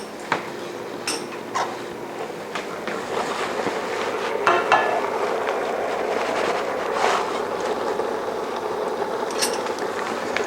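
Spoon stirring tomatoes into soft, cooked-down peppers for Hungarian lecsó, with irregular scraping and clinking against the pot over a low kitchen hum.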